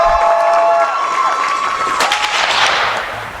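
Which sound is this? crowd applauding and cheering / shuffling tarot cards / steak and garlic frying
crowd applauding and cheering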